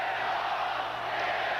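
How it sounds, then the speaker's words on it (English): Crowd applause for quarterback Guidry at a night football game in the Superdome, New Orleans, a dense, steady wash of clapping and crowd noise at a distance, unbroken for its short span. "And Guidry gets a round of applause"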